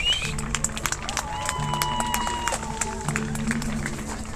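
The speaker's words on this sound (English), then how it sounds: "Everyone give Jesus a round of applause." A crowd at a street skateboarding competition claps and cheers in a continuous, dense burst, with scattered shouts and a faint melodic tone threading through the noise.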